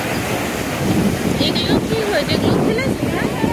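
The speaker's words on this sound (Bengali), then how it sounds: "ও চল ঢেউটা দেখো, সেই অসাধারণ লাগছে।" Sea waves roll in at New Digha beach, a steady broadband roar of surf mixed with gusty wind buffeting the microphone, continuous and fairly loud throughout.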